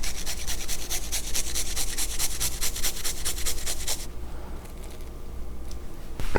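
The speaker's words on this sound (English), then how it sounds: "2 medium to large cloves of garlic, and we're just going to grate that in." Medium to large garlic cloves rubbed briskly over a kitchen grater, a run of fast, even rasping strokes up close for about four seconds, then fainter handling noise with no talking.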